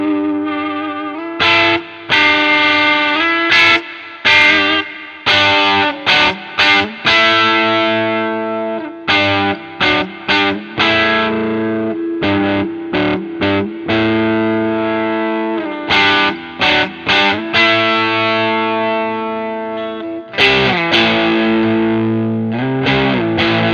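Arrow Guitars Telecaster electric guitar played through heavy distortion, loud and sustained with chords and notes ringing alone, broken by short pauses and restruck strums.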